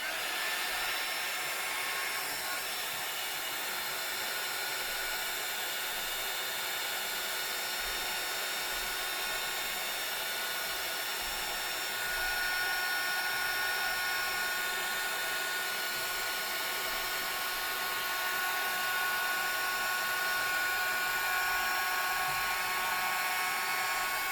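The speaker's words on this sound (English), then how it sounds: "let's give it a go with the blower and see if we can get anywhere" A blower roars steadily and loudly without a break while being used on a gilded photo frame, and no voices are heard.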